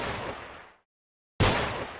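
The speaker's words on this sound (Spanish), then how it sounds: "¿El RB qué hace? Ah, dispara." Gunfire in a video game as a burst of dense rumbling shots, broken by a sudden silent gap, then resuming abruptly and loudly.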